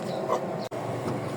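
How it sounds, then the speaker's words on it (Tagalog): A dog whimpers and gives short yips near a gate along a residential street, faint and brief, with a quick break partway through. "May aso."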